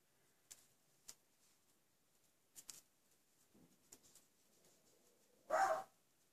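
A single sharp dog bark, reacting to a firework, near the end, after several faint scattered clicks and taps in an otherwise quiet room.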